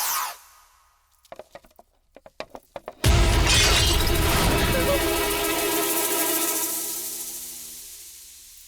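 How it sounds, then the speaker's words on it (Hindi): A glass photo frame slips from someone's hands and shatters with a sudden loud crash after a few faint clicks and taps, the breaking glass ringing out and slowly fading over several seconds. "भैया, फ्रेम टूट गया।"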